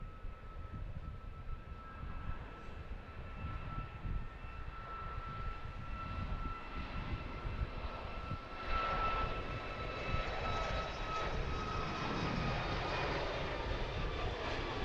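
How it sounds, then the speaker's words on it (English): An orange-liveried Allegiant Boeing 737 MAX jet takes off at Harrisburg airport, its engine roar a broad, steady rumble heard from a distance, slowly swelling and holding without any talk. "There goes the 737 MAX."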